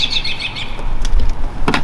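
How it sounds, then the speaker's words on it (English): Robins chirp outdoors in a yard, with brief high calls scattered near the start and a sharper burst toward the end over steady low background rumble. "It's nice to hear the birds."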